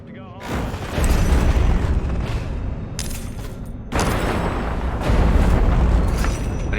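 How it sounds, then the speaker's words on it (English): Explosions in the video game Destroy All Humans, loud sustained booming blasts that roll continuously, with a fresh burst around the middle and another surge near the end. "They are much bigger explosion"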